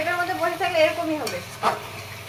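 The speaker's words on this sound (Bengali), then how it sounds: "এখন ভালো করে মশলাটা কষায় নেওয়া হবে।" Ginger-garlic paste with turmeric, coriander, cumin and dried chilli being stirred and fried in a pan for a fish curry, a close sizzle with scraping stir strokes and brief faint voice.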